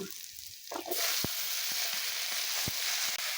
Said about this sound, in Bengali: এখন আমি কাঁচা কলাটা আর এই মিষ্টি কুমড়ো আমি দিয়ে দিব